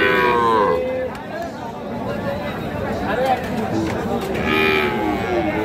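Bull calves mooing at a busy cattle market in Cumilla, with repeated loud, close bellows rising over a constant crowd of people talking and bargaining.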